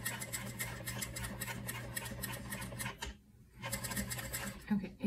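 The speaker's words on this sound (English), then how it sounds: "I'm going to try to stitch back and forth just at the top" A sewing machine stitches back and forth at the top of a zipper, giving a steady, fast mechanical ticking and whirr. It pauses briefly near the middle and then resumes.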